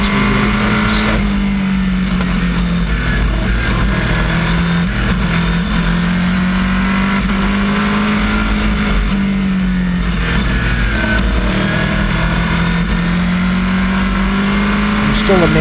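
Race cars running close together around an oval track in New England: a continuous loud engine drone that rises and falls steadily as the cars circulate, with someone talking over it.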